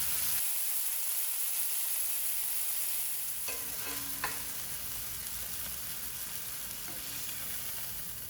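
Brined pork chops sizzle and fry steadily in a hot pan, a loud continuous crackling hiss with a couple of brief clinks of a utensil.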